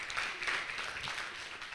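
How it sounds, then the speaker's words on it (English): An audience at a peer educators' school event applauds in a brief, dense burst of clapping heard from within the crowd, at moderate volume without a clear rise or fade. "Clap for me also."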